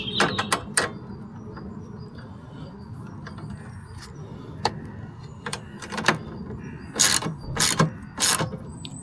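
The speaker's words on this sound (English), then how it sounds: "So I'm just tying up this lock nut, the nylon lock nut, here and there with a 10mm spanner and a socket." A nylon lock nut on a Vespa being tightened with a 10mm spanner and socket ratchet, giving sparse metallic clicks and ratcheting bursts, clustered at the start and again near the end.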